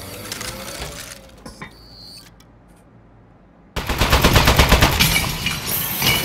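Rapid bursts of automatic gunfire from a Portal 2 turret crackle loud and dense through the second half, after a quieter stretch of faint mechanical clicks and a brief tone.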